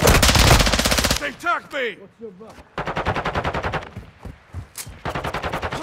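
Rapid automatic gunfire bursts in a shooter video game, loud and close, broken by short gaps with a voice calling out between volleys and other in-game sounds.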